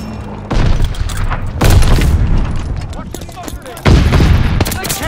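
Grenade blasts in the World War II shooter Call of Duty Vanguard, with two loud booming explosions among steady gunfire and battle noise.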